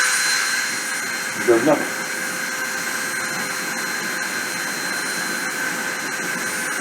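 A spindle spins at 30,000 RPM with a loud, steady high-pitched whine and constant rushing hum like a small jet. A brief spoken remark rises over the drone.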